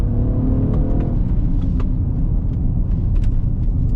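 Mercedes ML63 AMG engine climbing a hill, a loud continuous rumble with a falling then shifting tone as it downshifts, heavy low drone throughout.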